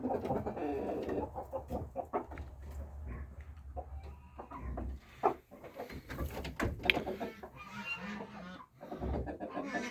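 Chickens and a rooster clucking around a home farmyard, with several birds calling close by in overlapping bursts across the whole stretch and a faint voice now and then.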